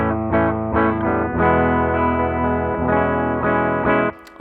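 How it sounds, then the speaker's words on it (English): Electric guitar on its bridge pickup plays loud, distorted sustained chords, strummed and held in a steady pattern for several seconds before cutting off abruptly near the end. "Already you can hear that bridge is a lot louder than the other pickups."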